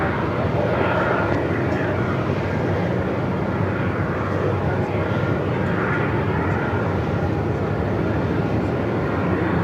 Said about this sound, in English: runway 34, cleared for takeoff